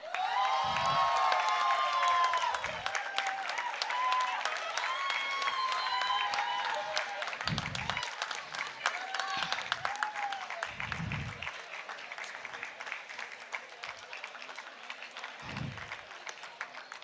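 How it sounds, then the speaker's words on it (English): Audience applause at a university convocation award ceremony, steady clapping from a large hall crowd lasting throughout, with cheers and a few scattered voices over it that slowly thin out toward the end. "Keep the applause flowing."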